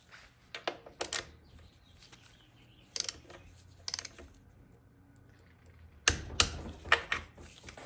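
A torque wrench ratchets down the lock nut on a Ford C6 transmission to 40 foot-pounds, heard as a few separate sharp clicking bursts followed by a longer, louder run of ratchet clicks, close with no talking.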